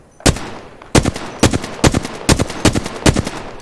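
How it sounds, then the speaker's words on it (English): Gunfire in a video game rings out as a series of sharp, loud shots in an even rhythm, about seven or eight bursts close by, each with a short crack and quick decay. "I'm taking fire"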